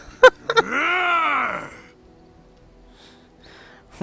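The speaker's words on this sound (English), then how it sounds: "Sten is growling at my dog." Sten, a companion character in the video game Dragon Age: Origins, lets out a single drawn-out, rising-and-falling growl lasting about a second, preceded by two sharp clicks and followed by quiet game ambience.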